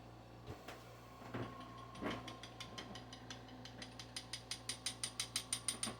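Honshu tactical wakizashi rattling loosely in its scabbard: quiet, scattered metallic clicks and knocks that turn into a fast, regular run of ticks over the final two seconds.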